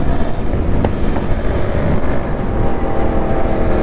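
An electric bobber motorcycle rides in second gear. Loud, constant wind buffets the microphone and a low road rumble runs underneath it throughout.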